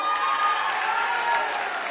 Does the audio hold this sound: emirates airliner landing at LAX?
no